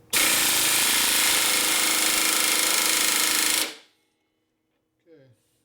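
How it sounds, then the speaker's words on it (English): A loud power tool roars steadily for about three and a half seconds while torquing bolts on the top end of a 1980 Harley shovelhead 92ci stroker engine, then cuts off abruptly, followed by a brief, faint voice. "I'm going to torque this down as much as it'll go"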